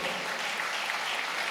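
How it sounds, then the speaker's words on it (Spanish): Church congregation applauding, a dense, steady patter of many hands clapping together, moderately distant and without speech. "Den un aplauso fuerte a Cristo Jesús"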